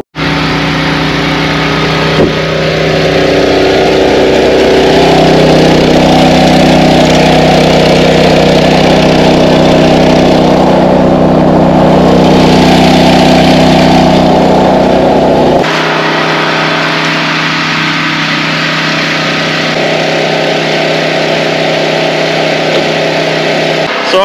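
A farm tractor's engine runs at a steady, loud, close idle with a constant droning hum, then settles to a slightly lower, quieter rumble near the end.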